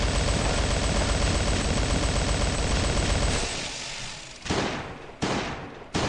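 Rapid automatic gunfire in a video game with the BFH mod, inside bunker Alfa: a loud sustained stream of shots for several seconds, then silence broken by a few short separate bursts.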